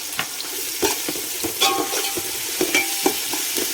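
One teaspoon of ginger paste sizzles and fries in a pan while being stirred, a steady close hiss broken by repeated scraping clicks of the spoon against the pan.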